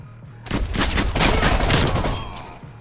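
Call of Duty Cold War game gunfire: a sudden loud, dense burst of rapid automatic shots from close by, running for about two seconds before trailing off.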